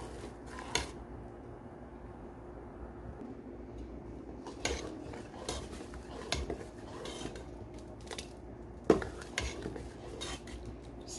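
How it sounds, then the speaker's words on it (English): A spoon scrapes and stirs in a pot of hominy corn porridge with soft repeated clinks and rubbing, close and fairly quiet, no talking. "I have to be constant stirring it because I don't want it to start sticking"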